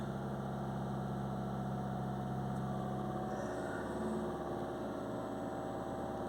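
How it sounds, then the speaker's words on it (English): A Volkswagen Tiguan engine with a high DPF soot fault (P2463) idles steadily with a low rumbling drone, the pitch rising slightly midway as it is revved a little. "Just picking the revs up a little bit more"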